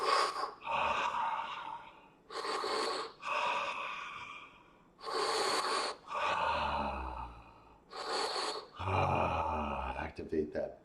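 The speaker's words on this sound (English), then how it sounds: "Inhale. Breath of fire. Breathe out like a dragon." Forceful, rhythmic breath-of-fire exhalations, sharp breathy bursts in repeated clusters, close and loud, with brief gaps between rounds as part of a morning breathing exercise.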